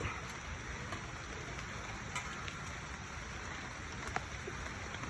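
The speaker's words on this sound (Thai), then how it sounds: "ท่ามกลางฝนตก" Steady rain falls in a forest throughout, a dense hiss of drops with occasional louder individual drips standing out close by.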